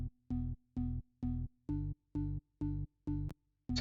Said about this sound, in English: So without all the effects, the organ sounds like this.